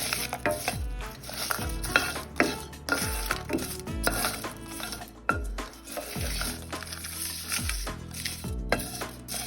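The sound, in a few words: curry leaves and green chillies frying in a pan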